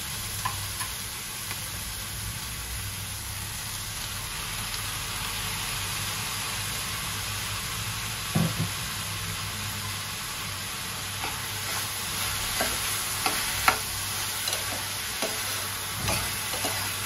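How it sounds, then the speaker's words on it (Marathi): Chopped tomatoes sizzle with browned onions in a pan for paneer bhurji, a steady loud frying hiss throughout with occasional clicks and scrapes near the end. "आता आपण यावर टोमॅटो घालू"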